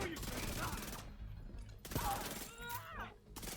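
Rapid SMG gunfire cutting down enemies in The Division 2, heavy dense bursts through the first second, then scattered shots and impacts among mixed game noise.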